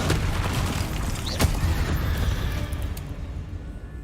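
A Confringo fire spell bursts in Hogwarts Legacy with a loud booming blast, followed by a rumbling roar and crackling debris that fade out over a few seconds.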